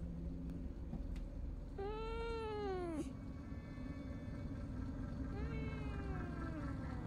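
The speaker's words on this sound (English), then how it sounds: "It's the cat." A cat in the horror game Fears to Fathom meows twice, one long rising-and-falling cry followed by a shorter, softer one, over a low constant rumble of background ambience.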